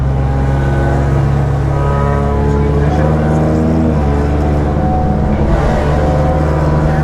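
Race car engine running steadily during pace laps, a loud continuous low rumble with layered harmonic drone that holds through the whole stretch, with slight shifts in pitch as it eases and picks up.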